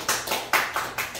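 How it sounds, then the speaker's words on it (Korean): Audience applause at a keynote lecture event, several bursts of hand claps rising and falling in waves, moderately loud and close, with no voices over it. "큰 박수 맞으시면 감사하겠습니다"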